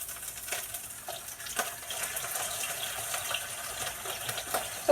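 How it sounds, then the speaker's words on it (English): Vegetable broth hitting a hot pan, a steady close hiss and bubbling sizzle with faint clinks, continuous and fairly even throughout with no talk. "I'm gonna put in the vegetable broth."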